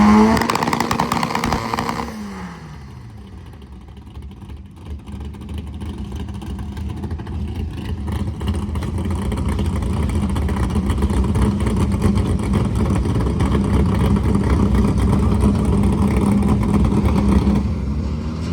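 Drag racing cars at a 10.0 index class event launch and pull hard down the strip, a loud, sustained engine roar that dips briefly before building into a dense, continuous drone with no talk.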